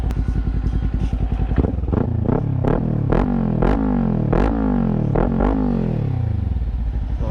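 A Kawasaki Ninja 400 parallel-twin with a Yoshimura exhaust revs repeatedly, each sharp blip falling back to a throbbing idle. The bike is loud and close, with a steady low rumble underneath.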